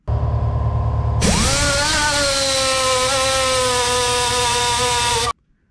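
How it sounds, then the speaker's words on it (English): A power grinder bites into the metal dash panel of a Chevy Nova under repair, a loud, steady high-pitched whine that starts abruptly after a lower motor hum and runs continuously for about four seconds before cutting off. "We went through and we did a bunch of grinding."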